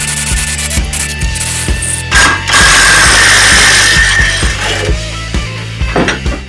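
A clutch puller is worked on a 1979 Honda Odyssey FL250 clutch, making close, loud rhythmic ratcheting clicks and metallic grinding, with a burst of harsher scraping midway.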